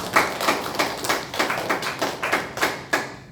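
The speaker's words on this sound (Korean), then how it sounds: "우리 하나님께 영광의 박수를 모두 올려드립니다." A church congregation at a Sunday worship service claps in unison, a steady rhythm of about three claps per second, moderately soft and even, with no voices.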